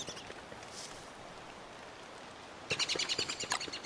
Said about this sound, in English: Oh, we got a bird, we got a bird.